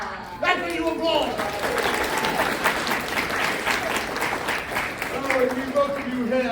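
Loud audience applause at a MEGACON Orlando 2024 stage show, sustained clapping from a crowd, with a voice calling out over it at the start and end.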